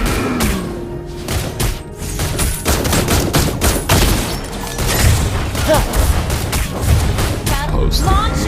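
Granger's gunfire in the mobile game Mobile Legends: Bang Bang comes as rapid, loud bursts of shots with booming impacts, layered with game music and effects and some brief voice lines.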